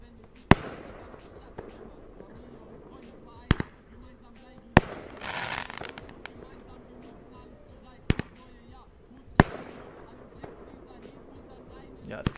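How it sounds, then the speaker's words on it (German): A series of sharp bangs from a shell-firing firework tube (Bombenrohr), about six loud reports spaced irregularly, with a brief crackling hiss between them and faint background voices. "Bombenrohr von Nico, auf jeden Fall richtig krass."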